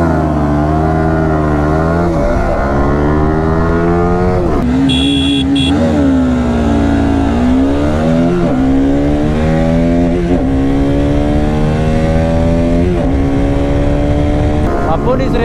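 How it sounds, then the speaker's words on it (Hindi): A Yamaha R15 V3 BS6 and a Pulsar RS200 BS6 race side by side, with loud, continuous engine drone and rising, falling rev sweeps as the riders accelerate and shift through gears. "तो अभी मैं चलाने जा रहा हूँ R15 और कुंदन भाई चलाने जा रहे हैं पल्सर RS 200"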